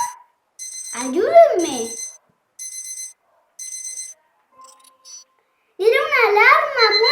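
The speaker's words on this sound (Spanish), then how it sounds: "¡Era una alarma!" A household alarm rings in short, shrill repeated bursts separated by brief silences, with a voice crying out between them and a wavering siren-like tone near the end.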